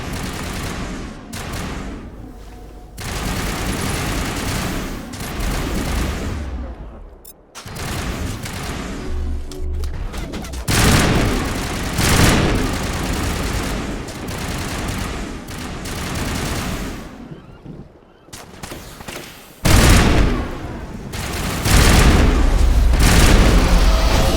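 Sustained gunfire and booming explosions fill a Mass Effect battle, with bursts of rapid shots, heavy blasts and brief lulls, loud and close throughout.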